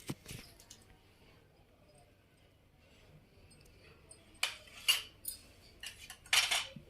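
Eggplant pieces crushed in a stone mortar for chutney, heard as quiet scraping and knocking through most of the clip, then several louder, sharper grinding clacks near the end.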